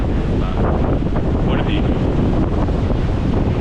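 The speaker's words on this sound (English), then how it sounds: "And it is bloody windy." Strong gusting wind buffets a GoPro HERO13 Black microphone with a loud, constant roaring rumble, and a voice speaks briefly underneath the blustering noise.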